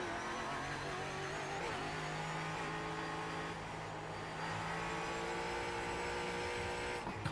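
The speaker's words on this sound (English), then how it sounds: "Car sliding through turn 1." A race car in the iRacing sim holds a steady, loud engine drone through a corner at Silverstone-style speed, with small shifts in pitch and no talking over it.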